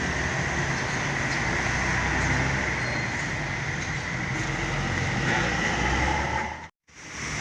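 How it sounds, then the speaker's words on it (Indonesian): Batu Mukti bus departing a terminal on a Jogja–Solo route, its engine a steady loud rumble amid broad traffic and terminal noise, dropping out briefly near the end. "segera berangkat bus Batu Mukti ya"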